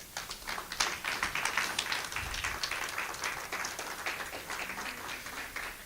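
Congregation in a church service clapping for God, a scattered run of hand claps filling the room at moderate volume, with no voices on top.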